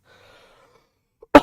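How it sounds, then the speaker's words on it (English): A single short, sharp cough sounds close up after near silence, preceded by a faint breath. "Sorry, apologies for my coughing and stuff."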